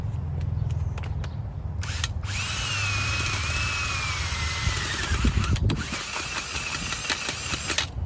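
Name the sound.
auger digging a hole in garden soil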